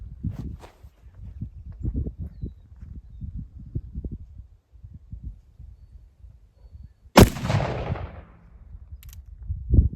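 A black powder 45 Colt cartridge loaded with a powder-coated bullet fires once as a single sharp, loud report with a short ringing decay, after quiet shuffling and handling noises.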